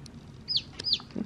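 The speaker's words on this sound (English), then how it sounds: "It's a silver silky cross chicken." A silver silkie cross baby chicken gives two short, high peeping chirps close by, with a soft low rustle near the end and no talk.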